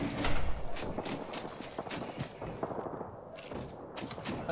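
An M600 Spitfire light machine gun fires in a battle-royale style video game, a quick rattling string of shots with scattered bursts and quieter steps between, moderately loud.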